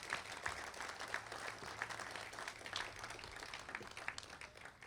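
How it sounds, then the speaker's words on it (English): Applause from the audience at a college athletic hall of fame induction ceremony, a steady wash of clapping that sounds fairly distant and quiet and holds for the whole stretch. "A nice round of applause for Dale Story."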